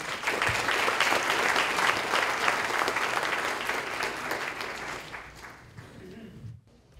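An audience claps steadily to welcome speakers at a city contracting presentation, loud and sustained before tapering off and stopping near the end.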